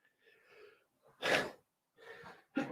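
A close sharp sneeze, preceded by a quick breathy intake and followed by another short burst of breath.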